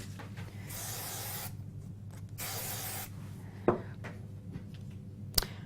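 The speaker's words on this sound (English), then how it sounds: "I'm going to use a little bit of spray glue." Two bursts of hissing spray from a can of spray glue, each lasting under a second, followed by a couple of soft taps and a click in a quiet room.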